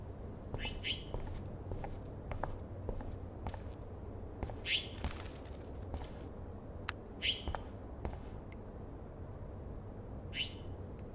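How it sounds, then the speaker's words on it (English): A bird trapped indoors in a video game chirps in faint, brief calls spaced a few seconds apart over a low, quiet room ambience. "That poor little bird has been trapped in here."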